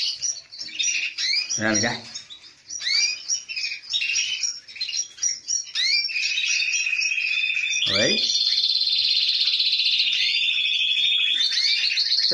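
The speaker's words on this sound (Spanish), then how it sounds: "Estos pájaros los tienen muy consentidos." Caged birds in a home aviary, including yellow canaries, chirping and trilling close up, busy rapid tweets that become a sustained warbling song, with someone speaking briefly.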